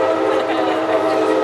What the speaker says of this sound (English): And the train has already gone by once.